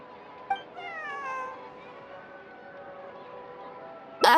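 A cat in the video game Genshin Impact lets out one long, drawn-out meow that rises and falls over a couple of seconds. A sharp, louder noise cuts in right at the end.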